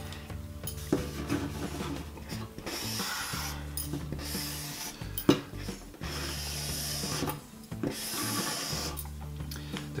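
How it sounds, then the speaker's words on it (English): A screw is driven through a wooden batten into a metal roof rib inside a Ford Transit MK8 van, a grinding whirring drive that runs in bursts with short pauses and a sharp knock midway, close and loud. "I'm then going to screw the batten directly to the metal rib here"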